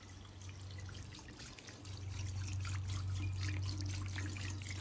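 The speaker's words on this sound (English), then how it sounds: "when you're stood in the garden, you can just hear this trickling water all the time" A garden water feature trickles softly and continuously, a gentle splashing flow under a low steady hum, with no voices.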